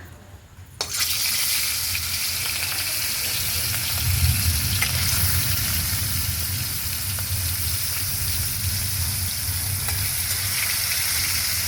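Fish curry cooking in a pan at home, a loud, even sizzle and bubbling that kicks in abruptly and then runs on without a break, with a brief swell of stirring partway through.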